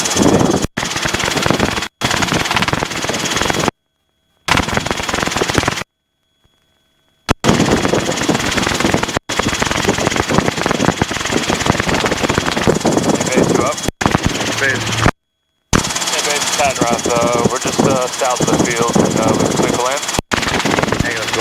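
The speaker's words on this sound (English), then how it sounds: "Helicopter aviation." A Robinson R22 helicopter's rotor and engine drone runs steadily and loudly nearby, with radio-style talk over it and a few brief dropouts.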